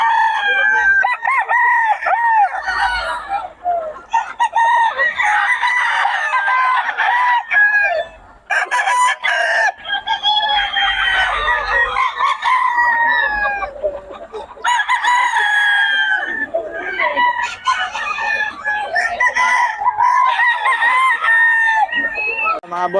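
Several roosters (stags) at a poultry market crow loudly and repeatedly, with clucking in between, close and dense, filling the whole stretch.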